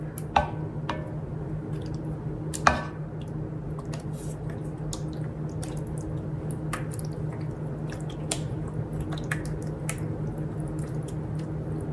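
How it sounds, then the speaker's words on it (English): Meat sauce is spread in a layer over lasagna noodles, giving soft wet squishes and occasional sharp spoon clicks over a steady background hum. "now we go in with another layer of meat sauce"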